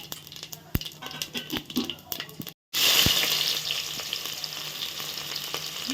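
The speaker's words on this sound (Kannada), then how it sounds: "ಎಣ್ಣೆ ಕಾಯ್ದಿದೆ ತುಪ್ಪ ಹಾಕ್ಬೇಕು ತುಪ್ಪ ಹಾಕೋತೀವಿ" Ghee going into hot oil in a home kitchen pan, a loud hiss of frying that breaks out suddenly after a brief silence and keeps sizzling steadily, with softer kitchen clatter and tapping before it.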